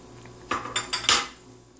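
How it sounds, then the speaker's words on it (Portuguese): Red cabbage is tipped into a pot of baby liver soup, producing four quick, close metallic clanks of spoon and pan in a rapid burst before the noise dies back. "E agora eu vou colocar o repolho roxo."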